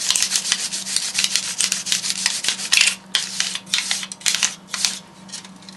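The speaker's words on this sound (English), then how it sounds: "as I pressed this down and started scrubbing" Tin sheet pressed against a workbench and scrubbed by hand, making brisk close rasping rub strokes in quick irregular bursts with no talk.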